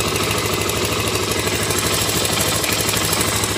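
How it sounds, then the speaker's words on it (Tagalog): A motorcycle's starter motor keeps spinning after the engine has started, so the steady engine run and the whirring starter go on together loud and close throughout, with no voices. "kapag umi-start na yung motor, hindi tumitigil to sa pag-ikot, umaandar pa rin siya"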